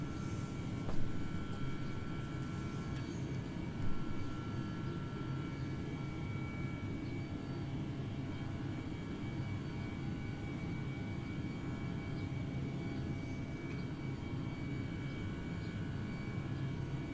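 Airbus A319 airliner climbing toward a 34,000-foot cruise in Microsoft Flight Simulator 2020, a steady low engine drone and rumble that holds level and unbroken throughout, with no one talking.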